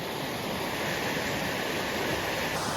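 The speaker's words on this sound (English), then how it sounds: "this one has water actively running through it" A small brook with water running steadily through it, a continuous soft rushing wash that stays even and unbroken throughout, heard alone with no voices.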